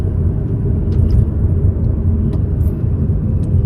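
A car drives along a road, a steady, loud low engine and tyre rumble heard from inside the cabin, with a few faint clicks over it and no one speaking.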